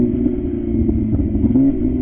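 MV Agusta Rush 1000 motorcycle engine running loud and close, a steady deep rumble with a few short pops from the exhaust near the end.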